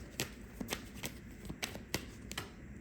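A deck of tarot cards being shuffled up close, with quick, crisp riffle and snap bursts repeating at an uneven rhythm, quiet overall with no speech.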